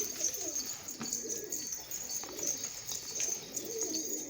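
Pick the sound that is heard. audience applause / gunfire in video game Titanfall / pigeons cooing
pigeons cooing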